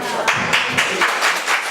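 Audience applause at a forum event in Korea, several short bursts of clapping, moderately loud and close, with no talking over it.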